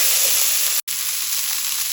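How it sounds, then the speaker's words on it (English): Garlic sautéing with onions in a pan, for a lemon asparagus pasta, gives a steady, bright sizzle broken by one momentary dropout before the frying hiss resumes. "And then we will saute those right into our onions as well."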